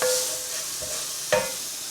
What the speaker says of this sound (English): Nice sizzle going on in those onions.